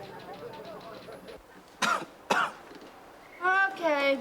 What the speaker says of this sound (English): Cough. Can't get rid of it no how.